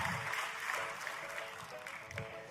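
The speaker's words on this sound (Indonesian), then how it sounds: "tepuk tangannya yang paling meriah buat Yesus Tuhan kita" A church congregation claps for Jesus in a dense, steady round of applause, mid-distance and fairly loud, with faint voices mixed in.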